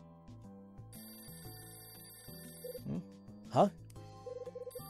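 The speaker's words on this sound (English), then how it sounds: "The phone's ringing." A telephone rings within the Hotel Dusk: Room 215 video game, trilling electronic bursts set among background game music, with a short spoken interjection over it.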